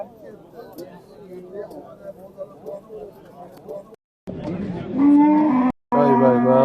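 A Swiss breed cow at a livestock sale lets out loud, drawn-out moos in the second half, following a quieter stretch of crowd murmur and voices.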